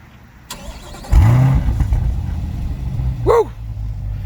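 A 2020 Corvette C8 engine cranks and fires up with a burst, settles into a rumbling idle, then gives one sharp rev near the end.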